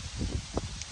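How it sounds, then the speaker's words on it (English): Outdoor wind gusting on a blustery day at a plasma cutter setup, a continuous rough buffeting rumble with small bumps throughout the second, close and fairly loud, with no talking. "Only thing sucks is today it's a little windy."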